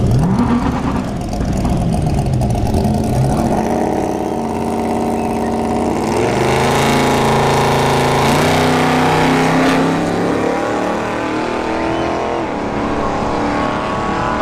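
A C3 Corvette's engine rumbles at a dragstrip, idling and then climbing and shifting through rising pitch sweeps as it runs, loud and sustained with no talk.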